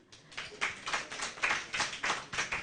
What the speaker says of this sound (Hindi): तालियों की आवाज़ मुझे थोड़ी सी कम लग रही है